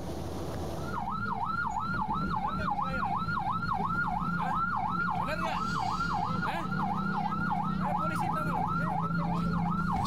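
An ambulance siren wails continuously in a regular rising-and-falling pattern, loud and close, over the low rumble of a traffic jam on Jalan Pelabuhan 2 in Sukabumi, West Java.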